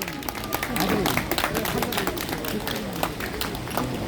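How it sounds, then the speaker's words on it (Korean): An outdoor crowd at an election-reform rally claps and cheers in a loose, continuous burst of applause, moderately distant, with voices mixed in. "여러분 큰 박수로 환영해 주시기를 바랍니다"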